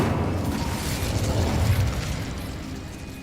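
Incendio fire spell in Hogwarts Legacy, a roaring whoosh of flame with low rumbling bursts that swell and then fade over a few seconds.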